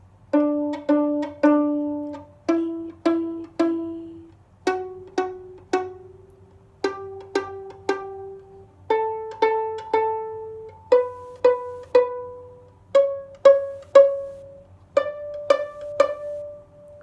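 A violin or viola plays a stepping scale pattern in quick, evenly spaced bowed notes, each pitch repeated in short bursts as the line climbs, clear and close with no talking.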